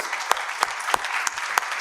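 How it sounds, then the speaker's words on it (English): Applause for a talent show audition winner, a light patter of clapping with a few sharp louder claps standing out at regular intervals, fairly close. "Round of applause."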